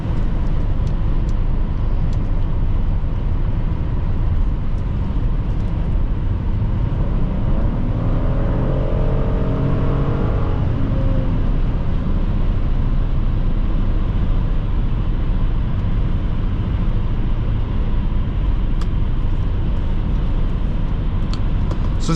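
A 2012 Hyundai Santa Fe Limited V6 accelerates on the road, a steady loud drone of engine and road noise from inside the cabin, with rising engine tones swelling midway.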